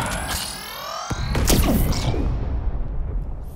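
Synthesized gun sound effect built in Kronos Weaponizer: a dense, distorted blast with sweeping metallic whines and a booming low-end swell that fades into a long, rumbling tail. Loud and close, with no voices.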